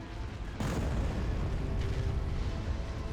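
Weapons fire in the Star Wars: Empire at War space battle game, a sudden heavy boom that rolls into a sustained rumbling barrage of cannon fire and explosions, loud and dense throughout.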